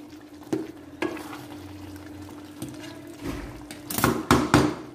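Macaroni masala is stir-fried in a pan, with a soft frying sizzle under intermittent spoon scrapes and knocks against the pan, the stirring growing louder and busier toward the end.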